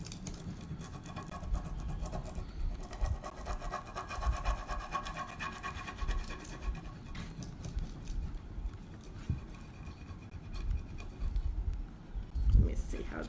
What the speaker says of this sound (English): So, and then you just rub it on.